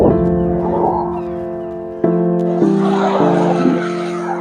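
A BMW G 310 GS motorcycle riding, its engine a loud, close, humming drone whose pitch steps down and up through gear changes, with rushing wind and road noise layered on top.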